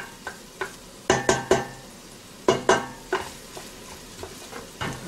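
Chicken browning in a pot for chicken cilantro soup, a low steady sizzle broken by sharp clattering bursts of a utensil scraping and knocking against the pot in irregular groups.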